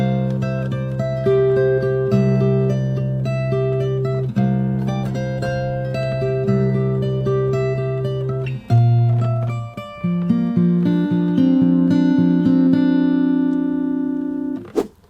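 Fingerstyle acoustic guitar plays the closing section of The Mandalorian theme slowly, sustained plucked notes and bass lines ringing out steadily, with a brief pause before a higher run and a final strummed chord.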